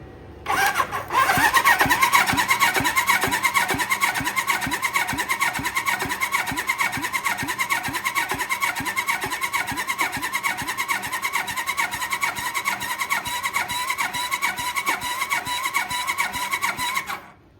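A 1979 Suzuki GS1000e motorcycle engine cranks over on its starter during a compression test, a loud, even, rhythmic chugging that runs steadily for about fifteen seconds and then stops.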